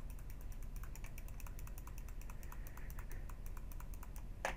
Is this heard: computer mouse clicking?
yes